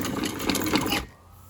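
Sewing machine stitching the lower seam of a cotton mini skirt, a steady close mechanical whir running for about a second before cutting off into near silence.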